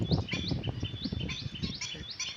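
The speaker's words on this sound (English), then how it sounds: "How sweet music the bird play from his tongue" Birds sing and chirp on a nature morning, a busy overlapping chorus of high repeated tweets with a steady whistle-like call, fairly close and continuous.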